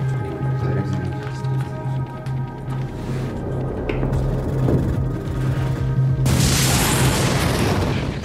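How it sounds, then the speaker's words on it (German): Bomb explosion in a historical documentary about the assassination attempt on Hitler: a continuous heavy rumble with low booming, ending in a sudden loud burst of broad noise near the end, under a constant low hum. "Stauffenbergs Bombe tötet 4 Anwesende."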